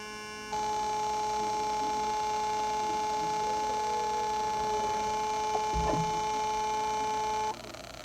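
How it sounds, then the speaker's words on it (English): An audio alarm buzzer driven by a 555 timer astable circuit switches on with a sharp, steady electronic tone, holds it for about seven seconds, then cuts off abruptly. "Now the duty cycle is longer, so the audio alarm stays on a little bit longer"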